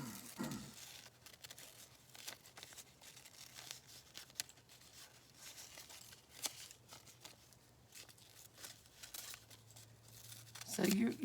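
Scissors cutting out a paper shape, heard as quiet, close snips and crinkly paper rustles scattered irregularly through the stretch, with a sharper crackle near the end.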